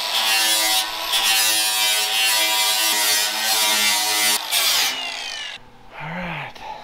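A power tool, likely a grinder or wire brush, runs loud and continuously as it strips paint off metal on a rat rod build, holding a steady whine for about five seconds before winding down.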